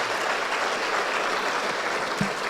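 A church congregation claps steadily through a sermon, a dense, even wash of applause that holds at the same level from start to finish.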